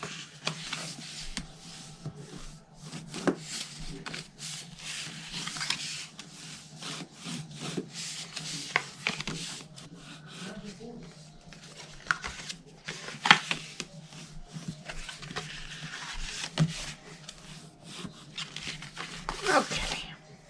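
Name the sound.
folding and burnishing scored cardstock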